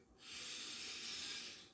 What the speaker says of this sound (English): Let me go ahead and give this a good sniff.